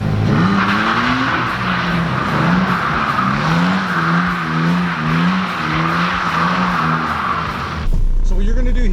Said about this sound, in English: First, we would do a donut around a cone, and then eventually link them into a figure eight